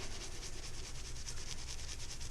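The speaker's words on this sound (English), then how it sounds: "that's when I'll use just a stainless steel steel wool" Steel wool scouring pad scrubbing stubborn stains and grease off a stainless steel gas cooktop on a Fulgor Milano Sofia Pro range, a steady close rasping rub that continues without a break.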